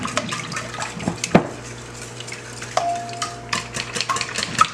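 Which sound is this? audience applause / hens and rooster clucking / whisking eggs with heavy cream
whisking eggs with heavy cream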